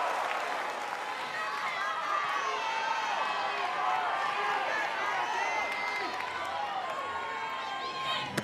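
A college softball crowd cheers a home run, a steady roar of cheering, whoops and clapping at a distance, with a commentator talking over it.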